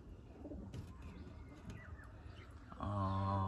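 Pet pigeons in a home loft cooing softly nearby, a few low throaty coos followed by a louder, sustained cooing close up at the end.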